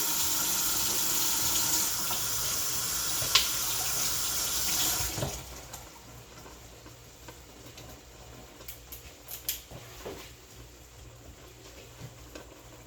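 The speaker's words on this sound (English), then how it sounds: "I'm just rinsing off a knife and my broccoli." A kitchen tap running full as a knife and broccoli are rinsed under the stream, a loud steady splashing rush that stops abruptly, followed by quieter drips and light clatter near the sink.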